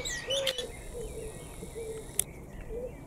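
A mimicking songbird calls outdoors during a motorhome trip to Germany, giving repeated bright chirps and warbles against a steady hum of insects.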